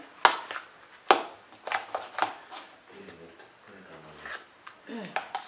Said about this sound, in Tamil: எல்லாத்தையும் கலக்கிக்கிறேன்